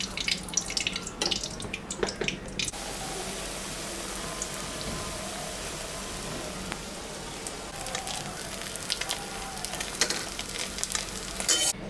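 Fish fries in hot oil with a constant close sizzle and spatter. Sharper crackles and bursts come early as pieces go in or are turned, and no one speaks.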